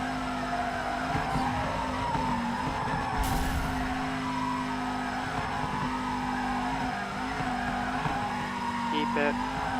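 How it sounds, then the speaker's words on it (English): Engine whine and tire squeal from a car drifting sideways in the video game FURIDASHI Drift Cyber Sport, a steady loud revving drone with skidding running throughout under a voice talking. "I don't have enough power to continue that drift throughout that entire backside of that building"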